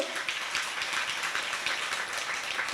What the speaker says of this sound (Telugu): కొద్ది గట్టిగా చెప్పండి పరమాత్మనికి చప్పట్లు